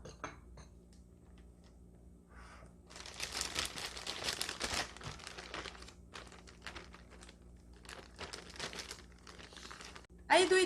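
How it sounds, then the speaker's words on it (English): Pork back ribs coated with starch are shaken inside a plastic bag in a home kitchen, giving a sustained loud crinkling and rustling burst with rhythmic shakes, after quieter handling noises. "Put it in a plastic bag and shake it. Shake it, shake it, shake it, shake it."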